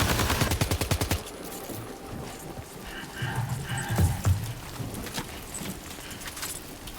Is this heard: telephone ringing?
no